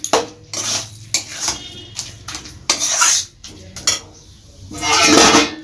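A spoon stirs spinach and bottle gourd in ghee inside a metal pan, loud scraping and clanking strokes in an irregular rhythm, with brief pauses between bursts and a faint sizzle underneath.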